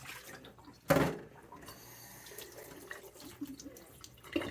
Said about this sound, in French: Ça, on va la rincer.